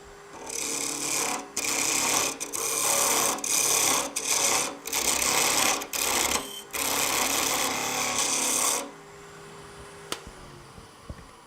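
A skew chisel cuts wood spinning on a lathe during production turning, a loud rasping scrape in repeated passes broken by short pauses, then stopping to near quiet with a few faint taps at the end.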